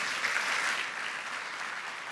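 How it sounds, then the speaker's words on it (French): Applause from an audience at an e-commerce plenary event, a steady dense clatter of many hands clapping throughout, fairly even in loudness and slightly fading toward the end. "je crois qu'on peut à nouveau les applaudir."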